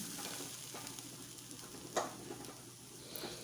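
Grated coconut sautéing in a pan for thovayal, a quiet steady sizzle with light stirring and a single sharp tap midway.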